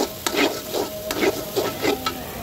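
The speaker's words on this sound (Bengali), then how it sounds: "মশলাগুলো আমার তেলের মধ্যে কিছুক্ষণ ভাজা হয়ে গেছে" Spices with turmeric sizzle in hot oil for a homemade country duck curry, stirred in about five rhythmic scraping strokes over a steady close frying hiss.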